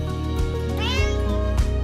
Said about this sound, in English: You don't have to speak cat to know what this cat is saying.